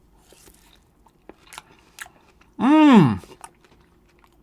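Soft, faint bites and chewing on slightly cold, previously frozen durian fruit come as a few small crunchy ticks close up, followed by a single drawn-out hummed voice sound.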